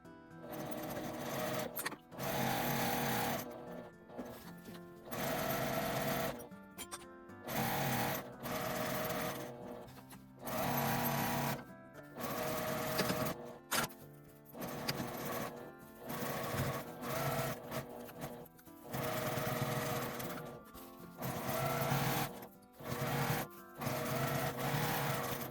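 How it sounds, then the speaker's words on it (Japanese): A sewing machine stitches an insulated drawstring lunch bag with a 1 cm seam allowance, leaving the cord opening unsewn. The motor runs close and steady in repeated bursts of a few seconds with brief pauses between. "紐通し口を開けて1センチの縫い代で縫います。"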